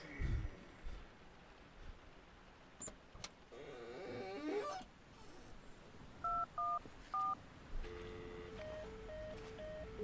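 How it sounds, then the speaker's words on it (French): A telephone in an indie horror video game gives a few short, evenly spaced electronic tones amid a dark, murky ambient background, followed by a repeating ring pattern. "Il y a un téléphone qui sonne."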